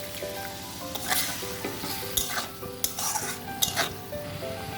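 Spiced masala for a Bengali tangra fish chorchori sizzling and stirred in a pan after a splash of water, with steady frying hiss and repeated scrapes and clinks of a spoon against the pan, fairly close, no talk.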